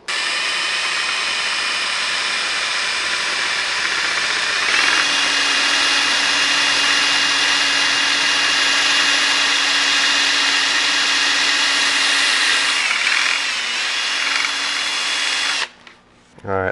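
A power drill bores a pilot hole for mounting Circuit Demon heart halo lights, a loud, steady whine that shifts pitch partway through, continuing for about fifteen seconds before stopping abruptly.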